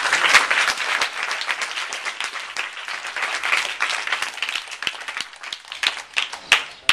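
A school function crowd applauds a first-prize winner with dense, sustained clapping from many hands, loud and steady with sharp individual claps standing out near the end.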